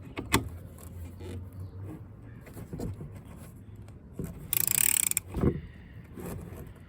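Ratchet wrench with a 17 mm socket tightening during a radiator replacement on a 2008 Honda Fit, giving a few sparse clicks and a short, rapid ratcheting burst amid nearby mechanical handling.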